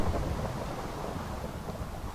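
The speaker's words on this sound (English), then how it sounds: "Thunderstorm as well." Thunderstorm in the video game Minecraft, a low continuous rumble with rain-like hiss, fairly faint and steady with no talking.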